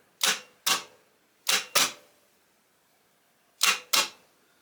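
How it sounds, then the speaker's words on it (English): The sticky starter solenoid on a 1981 BMW R80 motorcycle clicks sharply and close by, six clicks in three quick pairs separated by pauses. "Sticky solenoid."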